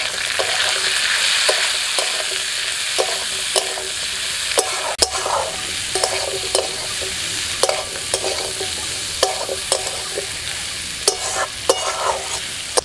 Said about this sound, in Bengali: আমরাটা কিছুক্ষণ ভেজে নিয়ে